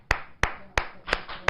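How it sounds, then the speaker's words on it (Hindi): Five sharp, close hand claps land at an even, unhurried pace during a live debate, each one a crisp slap with a short gap before the next. "बजा ताली"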